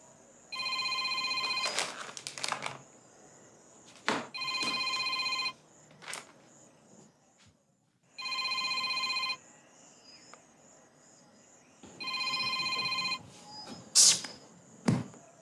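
A telephone rings unanswered indoors in repeated bursts, four loud ringing spells with pauses between them, alongside some faint background noise and a brief sharp sound near the end.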